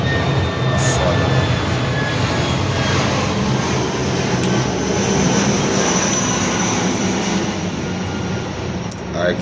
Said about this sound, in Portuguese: Aqui, irmão, é avião toda hora.